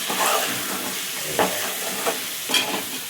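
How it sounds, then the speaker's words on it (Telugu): A spoon stirs coconut powder through a sizzling chicken, potato and chana dal curry in a pan, steady frying hiss with a few soft scraping strokes close by. "కొబ్బరి పొడి 2 స్పూన్లు వేసి కలుపుతున్నాం"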